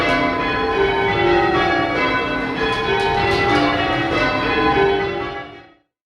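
A ring of church bells sounds call changes, overlapping strikes in a steady tumbling rhythm, loud and reverberant before fading out at the end.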